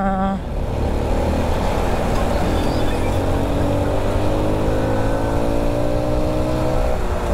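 Steady engine drone and passing traffic heard from a motorcycle on a long highway ride, loud and continuous with rising and falling engine pitch as vehicles move alongside.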